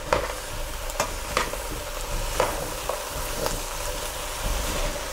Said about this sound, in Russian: Тыкву с сельдереем обжариваем примерно 5-7 минут.